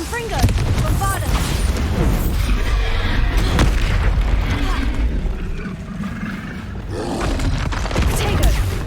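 A Bombarda explosion spell goes off in Hogwarts Legacy, booming, roaring blasts that rumble continuously for several seconds with crackling bursts, loud and close.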